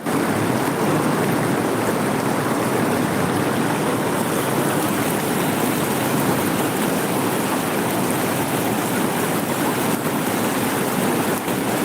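Fast-flowing flood water rushing through a stream under the Sevveri Odai bridge near Tittakudi, a loud, steady broadband roar that stays constant throughout with no voices.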